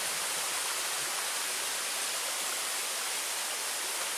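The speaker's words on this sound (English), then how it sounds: "Here's one of the little small waterfalls." Small waterfall on a wet backpacking trail at Pictured Rocks, Michigan, giving a steady, dense, close rushing hiss of falling water that stays even and alone throughout.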